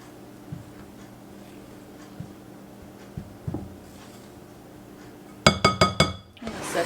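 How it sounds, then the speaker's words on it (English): A utensil stirs spices and flour in a glass bowl, with scattered soft taps at first, then a quick burst of bright glassy clinks near the end. "Then we're just going to give this a mix just to incorporate all of those spices with that flour."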